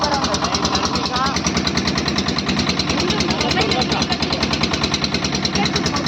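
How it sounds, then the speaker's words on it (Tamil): A motor boat engine chugs steadily through mangrove forest backwaters, a loud close pulsing drone throughout with a voice talking over it. "வாட்டர் போட் இது போயிட்டு இருக்கு பாருங்கள் ஃபுல்லாக ஃபாரஸ்ட்டுக்குள்ளே போகுது"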